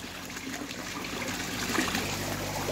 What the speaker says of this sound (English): So you can see as the water flows here, it's being aerated through this hole.